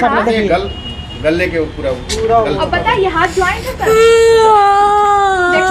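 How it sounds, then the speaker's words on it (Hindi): A child cries and whimpers in a distressed wail, rising into a sustained high sob near the end, while adults talk loudly over it close by. "बच्चे रो रही है"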